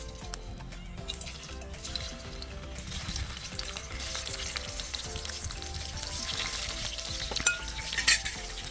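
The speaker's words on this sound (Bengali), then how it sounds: "এরপর তেলের উপরে নিয়ে একটু ভেজে নেব" Parboiled potatoes fry in hot oil with a steady, close sizzle that runs throughout, broken now and then by stirring scrapes and a couple of sharper clatters near the end.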